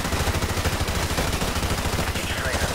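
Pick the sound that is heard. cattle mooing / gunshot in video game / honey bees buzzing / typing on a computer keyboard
gunshot in video game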